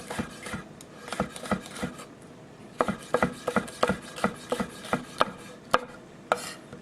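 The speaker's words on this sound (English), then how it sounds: "The food doesn't move, it's the knife that moves." A knife chops vegetables on a cutting board for a quinoa salad paella, giving a steady run of close, crisp knocks in uneven bursts, alone with no talk.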